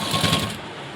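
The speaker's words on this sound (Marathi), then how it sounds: "पहा अशी फोल्ड केली आणि सेंटरला शिलाई देऊन घेतली." A sewing machine runs briefly, stitching down the centre of a folded fabric strip for piping, giving a close, steady whirring buzz with no voices.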